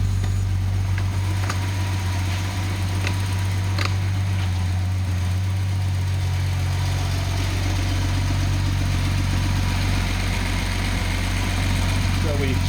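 A Datsun 280ZX turbo engine idles steadily with a deep, constant low rumble throughout, running on a remote connection setup; faint clicks and rattles sit over the even drone, with no voices.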